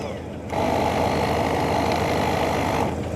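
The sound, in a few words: air blower on car battery charger blowing air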